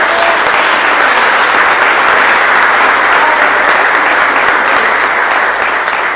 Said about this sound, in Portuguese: Dá uma salva de palmas para ele que ele merece.